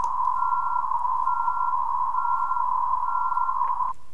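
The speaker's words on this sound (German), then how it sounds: "Noch höher den Ton, oberhalb der 1000 Hertz." A steady pure test tone near 1000 hertz from an acoustic measurement demonstration, sounding continuously and evenly for about four seconds before cutting off abruptly, alone over a faint noise floor.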